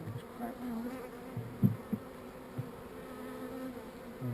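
Angry honeybees buzz thickly around an open hive, a steady close swarm drone with a few louder passes and bumps standing out.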